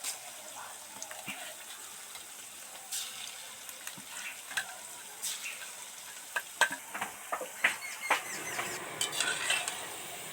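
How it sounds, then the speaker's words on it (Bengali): Small cauliflower pakoras dropped into hot oil and frying, giving soft bubbling and sizzling with scattered stirring and clinking from a spoon or utensil, growing busier toward the end, no voices. "ছোট্ট ছোট পকোড়ার আকারে তেলের মধ্যে ছাড়তে থাকবো"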